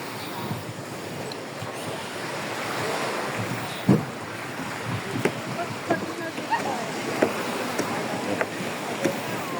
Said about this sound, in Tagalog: Medyo maalon yung araw na to.